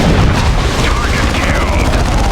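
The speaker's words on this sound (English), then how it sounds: "Predator taking missile hits" Missile hits pounding a Predator tank in Dawn of War II, a loud continuous rumble of booms and blasts with faint whistling streaks over the top, under steady battle noise.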